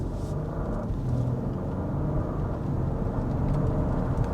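A 2025 Porsche Cayenne S SUV on a test drive gives a steady, low engine rumble at moderate volume, continuous with no clear revving peaks.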